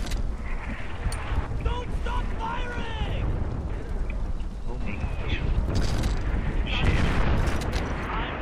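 Rapid gunfire and blasts rumble through a Far Cry 4 firefight, a dense, loud barrage of shots and explosions with a helicopter nearby, with a voice occasionally heard underneath.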